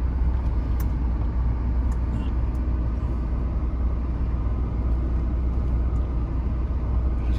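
A camper van on all-terrain tyres drives off-road along a rutted old byway. A steady low engine rumble and road noise run throughout with faint knocks, and no one speaks.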